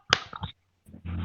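Schoolchildren in a classroom clap a short rhythmic pattern, a few sharp, close claps in quick succession, followed by young voices.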